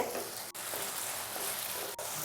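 Chilli chana sauce bubbles and sizzles on a high flame, a soft steady frying hiss lasting the whole stretch, broken by two brief dips, close but fairly quiet with no speech.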